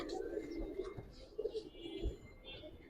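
Large Giribaz and Pangkhi pigeons kept in cages give low, repeated cooing murmurs that rise and fall in soft pulses, fairly close, over a faint background hum.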